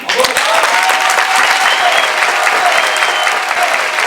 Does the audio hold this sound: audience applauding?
yes